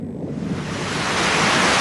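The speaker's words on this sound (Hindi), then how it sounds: "लो, तेज बारिश भी शुरू हो गई।" Heavy cartoon rain comes on as a broad, rushing hiss that swells steadily louder over a couple of seconds, with a windy, surf-like texture and no voices.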